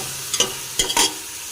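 Chicken pieces roasting in a pan for chicken vegetable soup, heard as a few short stirring scrapes and brief sizzles close by, with quiet gaps between them.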